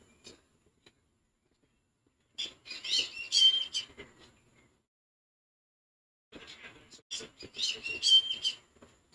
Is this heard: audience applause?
no